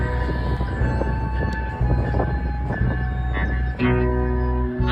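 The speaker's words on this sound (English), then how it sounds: "Amtrak train pulls in with 2 locomotives." An Amtrak train pulled by two locomotives arrives at a Washington Metro-area station, a steady loud low rumble of engines and rolling cars with a sustained droning hum and a brief dip near the end, no talk.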